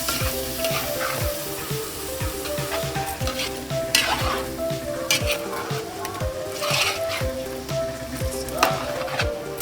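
Cassava leaves and plenty of meat stirred in a cooking pot for a Liberian dish, continuous sizzling with repeated scraping strokes and occasional clanks of the utensil against the pot.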